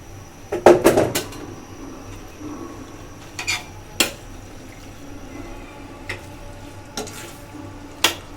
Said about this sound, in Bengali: এখন আমি দিয়ে দিব পাস্তা, যে পাস্তাগুলো সিদ্ধ করে রাখলাম ওইগুলো দিয়ে দিচ্ছি।